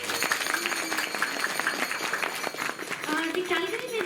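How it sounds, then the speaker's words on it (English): Audience applause fills an indoor annual day celebration at a Vedic academy in Calgary, a steady dense clapping that runs throughout while a voice talks over it. "let's give a round of applause for our lovely,"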